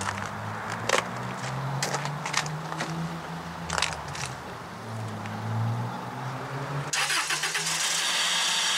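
A car engine cranks and fires up with help from a GooLoo GP4000 jump pack, a churning starter rhythm giving way to a rough idle, then a sudden loud surge of engine noise near the end.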